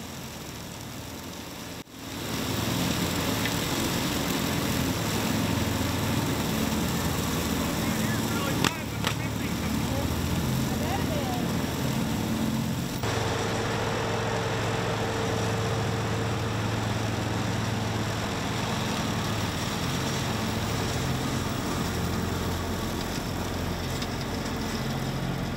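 A tractor pulling a 10-foot pull-type batwing mower while trimming ditch banks, a steady loud engine drone with constant low rumble throughout after a brief dip near the start.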